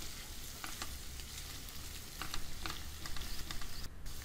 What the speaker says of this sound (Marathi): ह्यात 4 मध्यम आकाराचे उकडलेले बटाटे घालूया। मिक्स करूया।